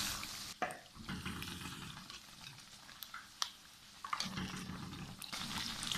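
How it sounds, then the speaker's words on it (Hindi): Naan pakora frying in oil, a faint, steady bubbling crackle that swells and dips, with scattered pops and some clattering handling sounds. "तकरीबन 1 मिनट हो गया है इसको इधर फ्राई होते हुए"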